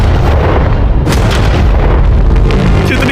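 A tank fires its gun at a pile of money, a deep, booming blast with heavy rumbling low end and a sharp crack near the middle, loud throughout and leaving rolling reverberation.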